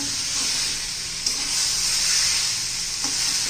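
A spiced masala paste base with fresh coriander is stir-fried in a pan for prawn masala, giving a soft, steady sizzle. A couple of scraping stirs stand out, with no talking.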